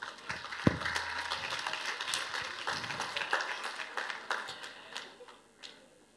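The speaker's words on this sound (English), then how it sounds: "Give a big round of applause." Audience at a school annual day show gives a round of applause, a moderate, somewhat distant patter of clapping with a few sharper claps that thins out toward the end.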